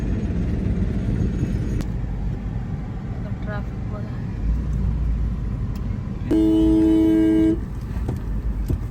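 A traffic jam at a busy city intersection in India is heard from inside a vehicle, with a continuous low engine and road rumble and one long, loud car horn blast near the end.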